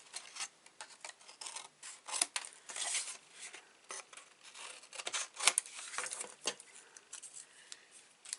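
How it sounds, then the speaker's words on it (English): Scissors snip and rustle through paper corners for a mini album craft project, a steady run of crisp close cuts and soft rubbing with no talk. "grab our scissors and just snip off the corners"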